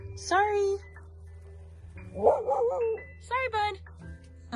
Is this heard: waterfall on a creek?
no